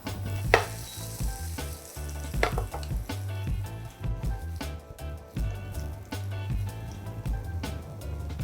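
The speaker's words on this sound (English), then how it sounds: "we're gonna toast this breadfruit in the same pan" Breadfruit toasts in a pan that still holds some basil, a continuous sizzle punctuated by frequent stirring knocks and scrapes, close and fairly loud with no one talking.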